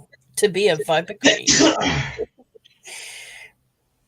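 A single short sneeze bursts out just after a stretch of people talking, then silence follows.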